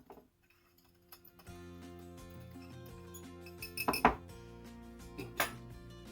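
A spoon clinks against a dish while mixing monk fruit sweetener with a tablespoon of cinnamon for gluten-free snickerdoodles, with a low hum under it and a few sharper metallic taps near the end.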